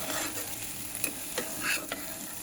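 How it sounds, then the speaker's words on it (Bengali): Potatoes fry in a nonstick pan over low heat, giving a soft continuous sizzle with a few brief scraping clicks of stirring, close and without any voices. "ননস্টিকের কড়াইয়ে আলু প্রথমবার ভাজলাম"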